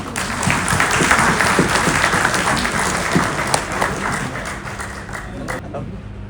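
A crowd applauding steadily, dense clapping filling the room for several seconds, with some voices mixed in before it thins out at the end.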